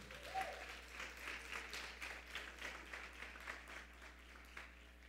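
Applause from a church congregation during a worship service, a steady wash of many hands clapping at low volume, somewhat distant and sustained for several seconds without a break.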